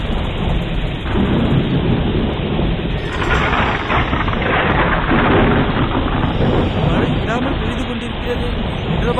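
A cartoon thunderstorm roars with loud, continuous heavy rain and deep rolling thunder, dense and close, with a brighter crash swelling midway and no pause in the downpour.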